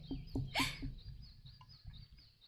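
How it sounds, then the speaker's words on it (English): Birds chirping in a visual novel game: faint, scattered tweets and short calls over a low background hum, with no voices. "These birds are super noisy for me."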